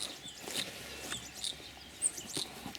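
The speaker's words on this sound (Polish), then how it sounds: "Ptaszki śpiewają, cieszą się, że jest cieplej." Small birds chirp and twitter faintly in a garden, short scattered high tweets over a quiet outdoor background with no voices.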